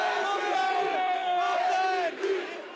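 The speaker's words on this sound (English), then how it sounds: "You can hear the crowd chanting MVP right now as Kawhi Leonard is up on the screen." A large crowd of Raptors fans at a championship celebration chants and roars together, dense sustained voices with rhythmic shouting, loud and close throughout.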